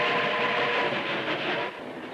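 A train rolls along the tracks in the 1949 film White Heat, a loud, steady rumble and rattle of railroad cars with faint rhythmic clatter and no voices.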